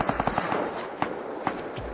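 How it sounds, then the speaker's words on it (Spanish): Gunfire in the survival video game Rust, a quick cluster of sharp shots followed by scattered single cracks at irregular intervals, fairly close, with low background noise. "Aquí pegándose de tiros"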